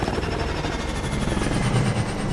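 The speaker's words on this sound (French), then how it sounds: "Hélico." A helicopter in the video game Call of Duty Advanced Warfare, a loud, close rotor chop with a low engine drone pulsing steadily, no voices.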